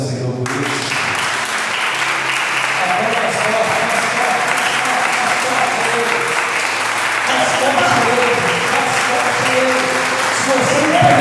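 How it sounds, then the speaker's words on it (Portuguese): Church congregation applauding steadily and loudly throughout, a dense sustained wash of clapping with murmured voices and some talk mixed in beneath it. "Você pode aplaudir ao Senhor por isso?"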